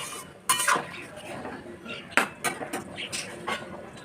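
A lid set onto a pot of Bengali fish curry with potatoes simmering in added hot water, giving a few sharp metallic clinks and clanks up close, with no talking.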